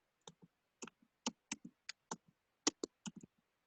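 Computer keyboard being typed on, a dozen or so distinct key clicks in an irregular rhythm, close and crisp in a quiet room with no talking.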